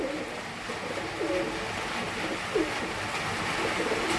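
A caged male Murshidabadi pigeon coos in short repeated calls, near and moderately loud, over a steady broadband background hiss.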